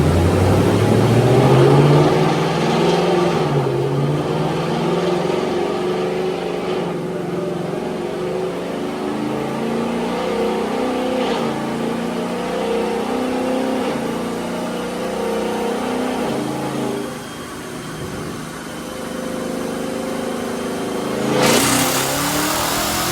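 A Whipple Stage 1 supercharged Ford Mustang S650 runs on a dyno, its engine roaring loud and close with rising pitch sweeps through the gears, easing off near the end and then surging briefly once more.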